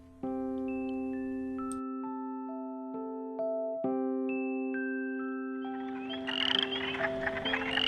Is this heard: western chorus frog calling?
yes